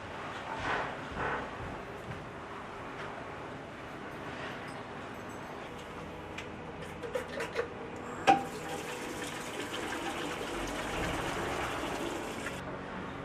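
Water runs steadily from a tap, quiet and continuous, with a few faint clinks and splashes as something is rinsed, the flow hissing stronger toward the end.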